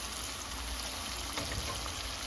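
Onion sautéing in hot oil gives a steady, dense sizzle that stays even and close for the whole stretch, with no voices over it.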